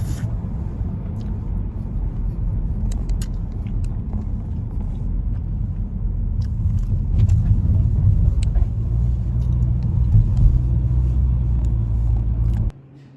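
A car engine rumbles steadily from inside the vehicle, swelling and easing as it speeds up and slows down repeatedly, a heavy low drone that cuts off abruptly at the end.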